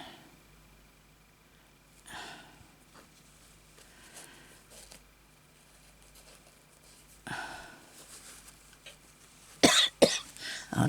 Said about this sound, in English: This is just I started this coughing thing too